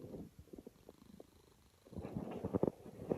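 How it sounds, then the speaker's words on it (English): A 14-year-old pet cat named Chauncey purrs softly and close by, a low, faint rumble with a steady rhythm that swells a little louder toward the end. "You might be able to hear her purring"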